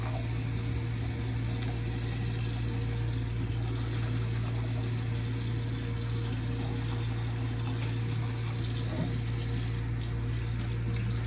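Tap water running steadily into a sink, a continuous even rush that holds close and level throughout with no talking over it.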